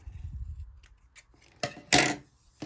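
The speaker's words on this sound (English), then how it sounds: "take a pair of scissors and just trim these off" Scissors trim the ends of a ribbon tied around a handmade scrapbook-paper envelope, making two quick crisp snips after some soft handling noise.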